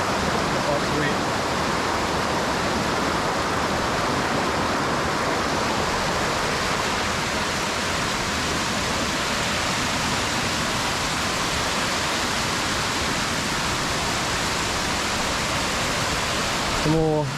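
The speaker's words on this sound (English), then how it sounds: "Some more little waterfall coming down through there as well." A small waterfall flows in the wilderness, giving off a constant broadband rushing and splashing roar that stays loud and even throughout, with a brief rustle at the very end.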